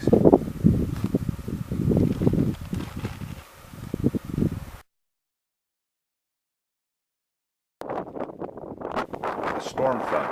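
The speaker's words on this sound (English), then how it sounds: "The storm front is blowing in, and the wind gusts are so strong that holding the camera steady is almost impossible." Strong gusts of wind from an approaching storm front buffet a handheld camera on a hot Great Basin hike, roaring loudly against the microphone before cutting out to a few seconds of silence and then returning.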